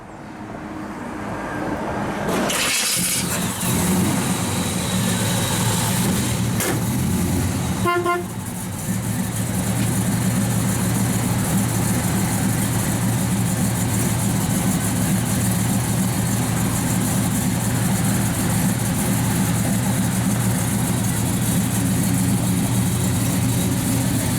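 A 1967 Chevrolet Chevelle SS 396 with 2.5-inch dual exhaust idles with a steady, deep rumble throughout, close by, after a brief toot near the start.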